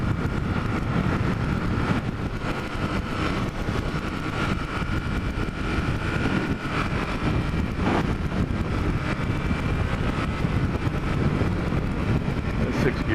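A Ducati Supersport S cruising on a freeway in sixth gear, a steady broadband roar of engine and wind buffeting that fills the whole stretch at constant loudness, with a voice talking over it.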